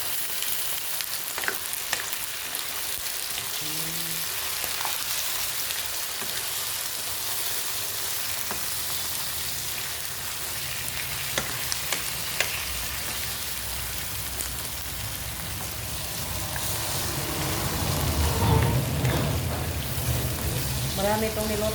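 Chicken sizzles in a pan for adobo, a continuous close frying hiss with occasional spatter pops and stirring. A voice briefly talks over it.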